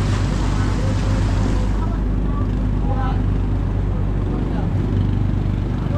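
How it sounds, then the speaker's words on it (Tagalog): A boat driven by a new Honda 18-horsepower outboard engine runs steadily at sea off Mindanao, a continuous loud motor drone with wind noise and people talking over it. "Bago din ho makina nito, lahat naman sila Honda 18 Caballos."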